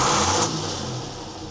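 A steady boat engine idle, after the boat sat sunk and abandoned for ten years, with a low, even hum and faint rattling, close by and continuous, with no voices.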